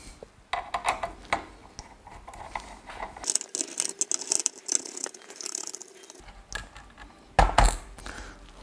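Screws being removed from a KinCony F16 relay board, with small metallic clicks, rattles and scraping of a screwdriver and loose screws in irregular bursts, close and fairly faint, without speech.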